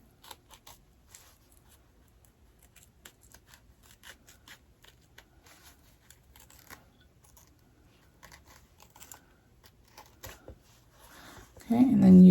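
Scissors make a run of small, quiet snips through herringbone fabric while trimming a top-zip bag, followed by a sudden louder rustle of handled material at the very end.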